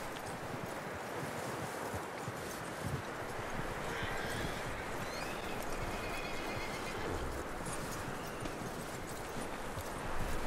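A horse in the video game Red Dead Redemption 2 moves through open country, its hooves clip-clopping steadily under a whinny and a constant wash of wind and rustling outdoor ambience.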